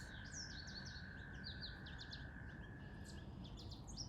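Several birds sing outdoors, faint but clear high chirps and warbling phrases over a steady low background hiss, with a thin sustained whistle-like tone running through most of it.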